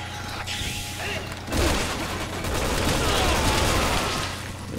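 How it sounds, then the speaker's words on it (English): Assault rifle fire in Resident Evil 6, Chris and Piers campaign, a dense continuous burst of shots with mechanical clatter and distant booms, loud and close, with voices talking over parts of it. "And now I'm gonna use the assault rifle."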